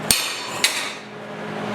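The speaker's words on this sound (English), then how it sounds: "So just take a hammer," Two sharp metallic taps of a hammer on a welded steel jig for a three-legged stand, about half a second apart, close and ringing briefly, with no talking.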